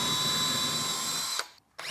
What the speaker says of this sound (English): We drill this hole and we're good to go.